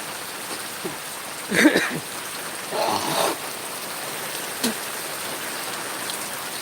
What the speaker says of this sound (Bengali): বৃষ্টি হবেই তো হয়েই গেল বৃষ্টি